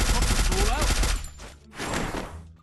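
Rapid automatic gunfire from the Free Fire video game, a dense close burst emptying a magazine, a short pause, then another burst, with someone talking over the shots.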